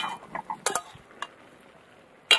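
A spoon stirs bottle gourd and fish head curry in a pan, giving a few close scraping clinks and taps against the metal in quick succession, then a brief pause before a final sharp knock.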